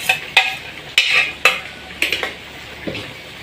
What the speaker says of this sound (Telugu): మెత్తగా మిక్సీ పట్టుకున్న ఈ టమాటా ప్యూరీ ఉంది కదా, ఇది ఇందులో పోసేసుకోండి